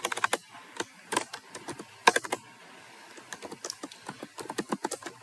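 Fingers type on a computer keyboard in irregular bursts of sharp, close key clicks with brief pauses between runs, no voices.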